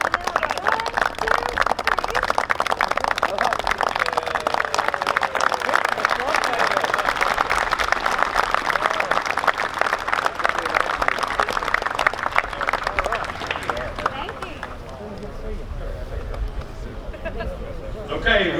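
A crowd applauds at a baseball field ribbon-cutting ceremony, with sustained dense clapping that swells and then tapers off, mixed with murmuring voices and chatter throughout.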